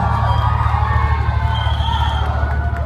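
A large crowd at a live concert in Hornbill, 2016, roars with sustained cheering and high screams, loud and continuous throughout with a steady low rumble underneath.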